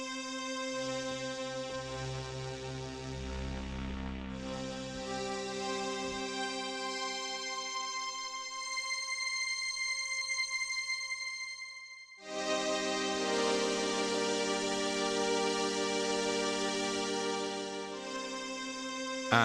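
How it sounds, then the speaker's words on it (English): A Solina-style diamond string synthesizer plays sustained, glassy mono chords that hold, fade to near silence, then swell back in brighter and fuller, with no voices. "So that's the Solina string, and the diamond sounds like a fridge string"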